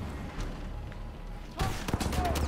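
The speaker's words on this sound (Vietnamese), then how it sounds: "Ồ, sao nó bắn kìa" Gunfire in the shooter video game Titanfall 2 on PS4, a sudden burst of several sharp shots after a quieter stretch, with a player talking over the game sounds.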